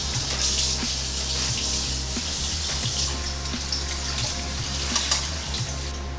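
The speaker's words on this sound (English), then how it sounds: "Here we have some potatoes. We're gonna wash them." Potatoes being washed under a running kitchen tap, a steady close hiss of flowing water with small splashes and knocks as the potatoes are handled, continuous for the whole stretch with no talking.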